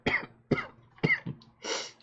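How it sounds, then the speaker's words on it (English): A person coughs in four separate bursts about half a second apart, the last one rougher and more drawn out, like throat clearing, heard close and with no speech. "Let's cough a little bit more, shall we?"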